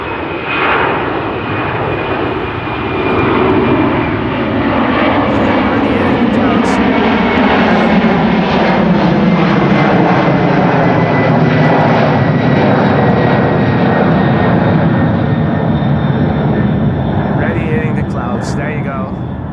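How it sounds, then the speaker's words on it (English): A light twelve-year-old jet airliner bound for Brussels takes off from Amsterdam Schiphol Airport, its loud, steady engine roar rising and sweeping past over about twenty seconds while someone speaks over it. "Only going to Brussels, probably very light. 12-year-old airplane. There it is already, airborne."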